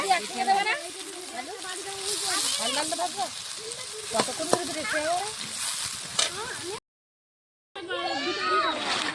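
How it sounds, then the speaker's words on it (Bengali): Potato chips fry in oil at an outdoor picnic, a steady sizzle beneath voices talking throughout, with a brief silence near the end before the frying and chatter resume. "এরপর আমাদের পিকনিকের আলু ভাজা চলছে"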